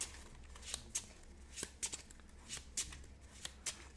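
Playing cards shuffled by hand for the Twilight Struggle board game, crisp riffling bursts repeating every half second or so at close range, fairly quiet, with no talking.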